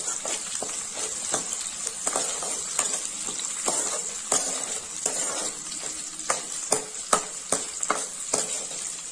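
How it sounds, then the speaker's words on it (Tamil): Small onions and garlic cloves sauté in oil for a curry-leaf curry, a close hissing sizzle punctuated by repeated sharp scrapes and clinks of a spatula stirring in the pan, with no voices. "இதை நல்லா வதக்கி விடுங்க."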